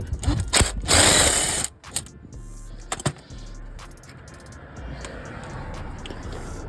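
A wrench turns and frees a bolt with loud bursts of ratcheting clicks and metallic rattling, followed by scattered knocks and scrapes with short pauses between.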